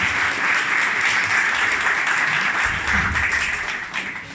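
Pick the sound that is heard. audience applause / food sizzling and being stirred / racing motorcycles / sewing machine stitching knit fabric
audience applause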